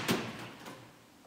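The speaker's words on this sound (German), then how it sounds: "Türe." A door in a home workout space gives a single short knock or thud near the start, then fades into quiet room tone, with no talking.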